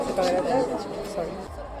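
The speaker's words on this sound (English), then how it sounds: "Got some talking in the cafe." Indistinct chatter in a cafe, several voices overlapping in a moderately close, continuous babble that thins out toward the end.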